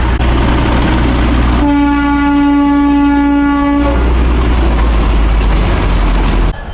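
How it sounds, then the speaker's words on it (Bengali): A toy train pulls out near Gulma. A deep, close rumble runs throughout, and a long, loud horn blast sounds for about two seconds in the middle. "ওই যে টয় ট্রেন ছেড়ে যাচ্ছে"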